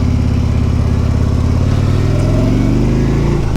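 A 2014 Harley-Davidson Road King's 103 V-twin engine, close and loud, with a steady lumpy idle that rises into a rev, pitch sliding upward toward the end.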